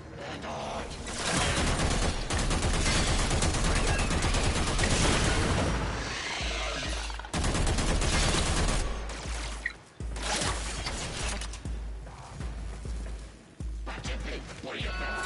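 Dense bursts of cannon gunfire in the sci-fi video game Warframe, loud sustained volleys with brief pauses and booms across the stretch.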